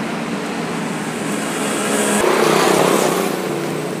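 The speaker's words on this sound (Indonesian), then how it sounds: "ini motor bisa gas kencang sampai teriak" A Yamaha Jupiter Z motorcycle engine with a sputtering fault revs hard, its whine climbing to a loud peak midway, then holding steady before easing slightly.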